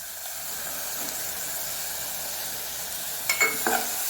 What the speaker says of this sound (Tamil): இப்போ நம்ம இஞ்சி பூண்டு பேஸ்ட்டை போடணும்